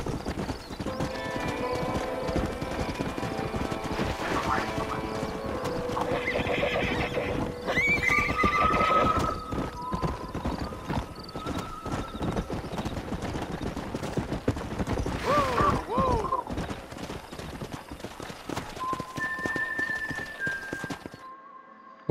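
Horses in the Red Dead Redemption game, steady clip-clopping hooves throughout with several sharp whinnies and neighs standing out, fairly close, fading out at the very end.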